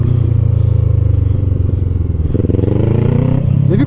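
Kawasaki Ninja 650 A2 motorcycle held in a slow wheelie at about 12 km/h, its engine a steady low drone throughout with slight rises and a little clatter near the end.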